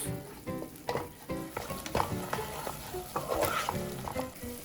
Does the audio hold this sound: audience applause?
no